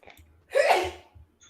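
One brief, sharp sneeze bursts out at moderate volume over faint low background noise, a single explosive exhale in an otherwise quiet moment.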